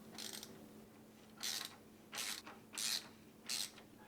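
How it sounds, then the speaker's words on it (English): Screws being driven down into a PC case fan, heard as four short, quiet ratchety clicking bursts spaced about a second apart over a faint steady background hum. "I'll crisscross and tighten all 4 screws down evenly."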